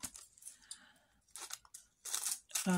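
Scissors cut through gel-printed paper art in a few separate, close, quiet snips and crunches, spaced by short pauses.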